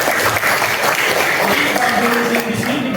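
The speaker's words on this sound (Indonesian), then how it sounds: "harus tepuk tangan" Crowd claps at an Indonesian classroom lesson, a steady, loud wash of applause mixed with a murmur of voices for a few seconds.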